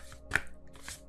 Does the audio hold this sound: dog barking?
no